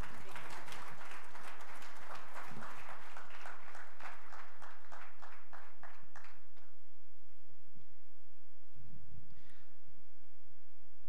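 Audience applause at an awards felicitation ceremony, dense clapping for about six seconds that then thins out and stops, followed by faint room noise.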